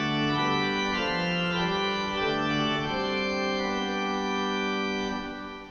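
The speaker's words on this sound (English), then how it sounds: "The mixture on the swell is slightly odd in so much as there are two quints, that's non-unison ranks, and one unison" Pipe organ swell mixture stop with two quint ranks and one unison rank plays a sustained chord progression, a dense, bright, buzzy stack of held tones that changes pitch a few times, steady and close, then fades at the end.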